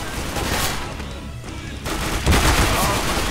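Gunfire from the game Counter-Strike: Global Offensive, with dense bursts and fusillades of shots, loud and close, plus a brief lull before the firing resumes.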